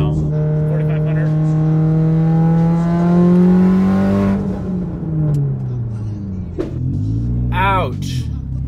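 A Mitsubishi Evo X engine revs up close and loud, its pitch climbing smoothly to about 4500 RPM over several seconds before dropping back, with brief talking and a couple of short bumps toward the end.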